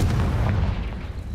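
A Confringo fire spell exploding in Hogwarts Legacy on PS5: a close, loud low boom with a rumbling, crackling tail that fades slightly through the short burst, no voices.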